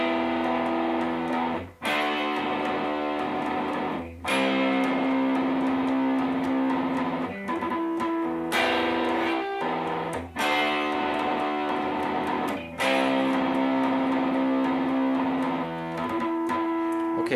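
Electric guitar playing the intro with all parts combined, sustained ringing chords cut by sharp re-strikes every two to three seconds, loud and steady with no talking.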